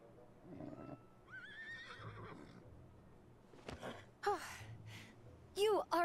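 A horse in the Kingdom Hearts III video game gives a short whinny, followed by brief rising neighs near the end, interspersed with game sounds and voices speaking.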